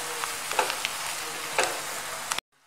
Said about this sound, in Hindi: डाल करके आप इसको मिक्स कर लें इस तरीके से मसालों को, और 2 मिनट तक इसको पकने दें ताकि मसाले भी ढंग से पक सकें।